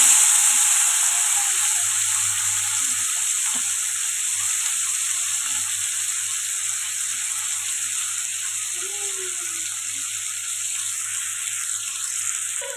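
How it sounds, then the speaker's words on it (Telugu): Small cleaned anchovies (nethallu) fry in hot oil, giving a steady, even sizzle with soft hiss that holds close and fairly loud throughout, with a few faint stirring clicks and no talk. "ఇప్పుడు అందులోనే నెత్తళ్ళు అయితే ఫ్రై చేసి పెట్టుకోవాలి"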